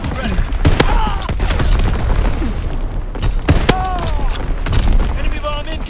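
Mortar shells explode in a WW2 video game as two sharp blasts land several seconds apart amid a crackle of gunfire, with voices speaking over the battle.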